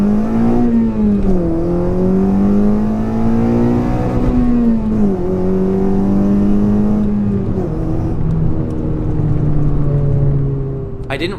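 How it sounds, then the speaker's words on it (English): A 9th-generation Honda Civic fitted with a full 3-inch downpipe and new exhaust system launches from a standstill, the engine droning loudly as it climbs and shifts through several rising pulls, heard up close from inside or beside the car. "Watch this as I launch my car with the whole new setup."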